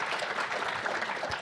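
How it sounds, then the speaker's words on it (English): A crowd at a crypto event applauds in a dense, even wash of clapping that stays loud and steady throughout, with no single claps standing out. "Give yourself a round of applause"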